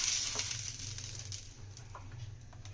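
Chakuli rice pitha frying in oil in a pan, a steady close sizzle that starts loud and eases slightly over a few seconds, with a faint scrape or stir partway through.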